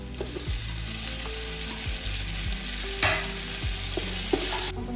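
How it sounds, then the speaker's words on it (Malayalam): Tomatoes fry in a pan with ginger, garlic and green chilli, giving a steady close sizzle with occasional stirring scrapes and clinks of the utensil. "ഇഞ്ചി വെളുത്തുള്ളി പച്ചമുളക് മാറിയതിന് ശേഷം നമുക്ക് തക്കാളി ഇട്ട് കൊടുക്കാം."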